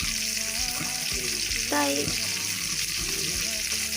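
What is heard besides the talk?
frying fresh hilsa fish from the Bishkhali river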